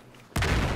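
In the video game Battlefield 4, a teammate's explosion bursts suddenly out of near quiet as a single loud, broad boom that lingers briefly.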